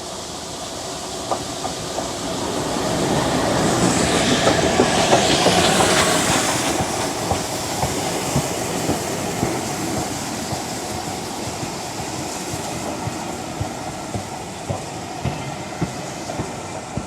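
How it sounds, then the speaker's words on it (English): A steam train rumbles past close by a caravan site, with rhythmic clickety-clack of wheels on rails and a hissing rush that swells then settles into steady rolling. "we're waiting for a steam train to come through"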